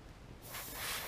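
An airbrush spraying thin blood-red paint onto a perch-pattern fishing lure beneath the fin, a soft close hiss that swells louder after a brief start, with no voices.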